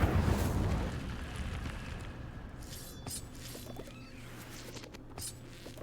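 The Incendio fire spell in Hogwarts Legacy, a loud whooshing burst of flame at the start that fades into softer crackling and scattered pops over several seconds.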